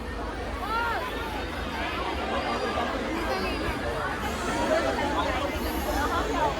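A packed New Year crowd chatters steadily in the parking area of Jhandewalan temple, a continuous dense babble of many voices close by with no single speaker standing out.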